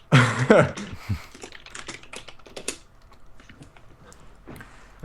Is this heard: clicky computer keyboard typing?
yes